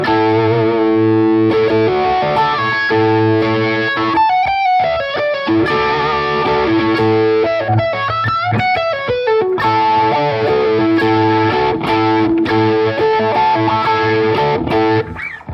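Electric guitar with a phaser tone plays a riff and solo lines, loud, distorted and sweeping, with sustained chords and bends that run on steadily.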